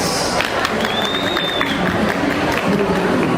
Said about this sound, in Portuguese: uma salva de palmas para o professor Igor Diniz